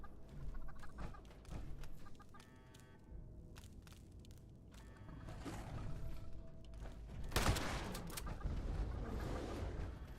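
Chickens clucking in the Fallout 76 video game, repeated close clucks and squawks, with a louder flurry of flapping and commotion toward the end.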